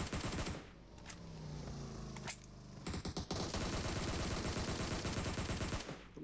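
Sustained rapid automatic gunfire in PUBG Mobile, loud dense bursts that briefly pause and then resume as a long continuous stream of shots.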